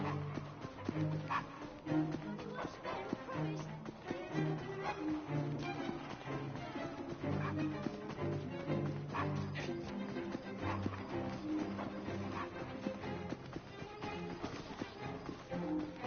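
A dog in Assassin's Creed Syndicate yips, barks and whimpers repeatedly in short bursts over a game soundtrack and ambient street sound, with occasional voices.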